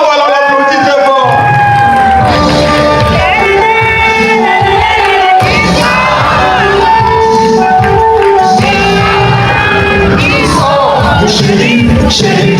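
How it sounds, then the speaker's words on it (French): An audience cheers and applauds loudly for a performer, with whoops and shouting voices rising over a steady crowd roar that runs the whole time. "on l'applaudit très fort."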